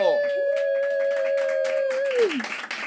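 A small studio audience claps to welcome guest Sofía Castro, a light patter of applause running beneath a loud, sustained tone that holds steady, then slides downward and stops.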